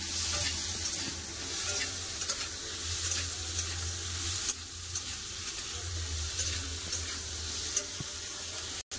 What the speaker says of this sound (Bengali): পেঁয়াজের সাথে ভালো করে ভেজে দেবো